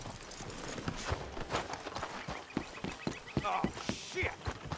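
Horse hooves clip-clop in the Red Dead Redemption II video game, a busy run of close, uneven hoof strikes with faint background ambience throughout.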